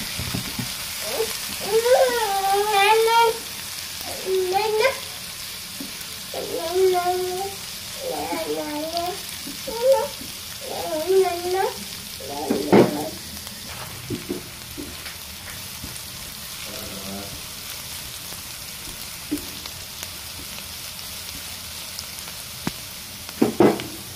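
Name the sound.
papaya and potato shreds frying and being stirred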